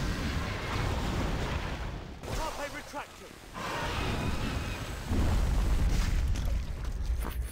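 A dragon's fireball slams into the ground in a Harry Potter game, a deep booming blast followed by rumbling fire, with a voice speaking over parts of it.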